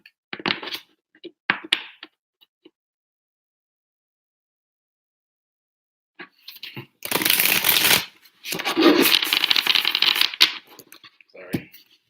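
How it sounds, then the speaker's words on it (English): Angel cards shuffled by hand, bursts of rapid riffling and fluttering close to the mic, with short taps at the start, a long quiet gap, then two extended loud shuffles. "Sorry. I just shuffle."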